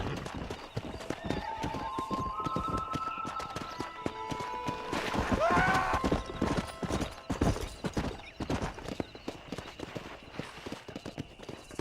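Horse hooves clip-clop at a gallop in the Red Dead Redemption video game, a steady loud drumming across the whole stretch, with a horse's whinny rising near the middle and no talk over it.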